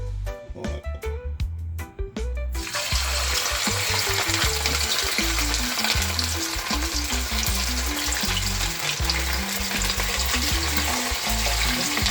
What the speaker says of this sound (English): now I'm gonna put my fish in a pot